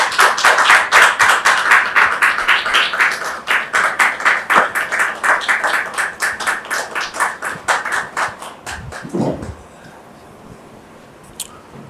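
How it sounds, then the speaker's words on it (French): Studio audience applauding for a French television talk show, dense clapping for about nine seconds before fading into quiet with a faint rustle. "Merci de les recevoir sous vos applaudissements."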